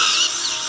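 A dental drill sectioning a lower third molar during surgical extraction, a piercing high whine, loud and close, continuous for under a second with no talking.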